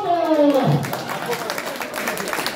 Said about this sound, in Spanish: ¡Cuántos aplausos a la abuelita Coco!